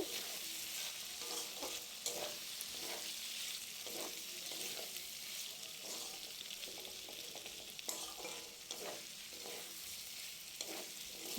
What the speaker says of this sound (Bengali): সব কিছু দিয়ে দিয়ে এবার আমি ভালো করে নাড়াচাড়া করে নেব